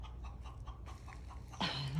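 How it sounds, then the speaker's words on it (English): Backyard chickens clucking softly in a chicken run, a few short low calls followed by a louder, sharper squawk near the end. "The chickens are so cute."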